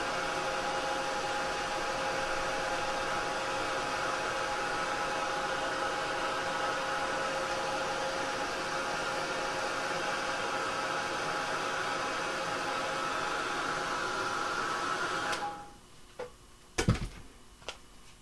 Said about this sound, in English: I'm going to go ahead and use my heat gun to get it all dry.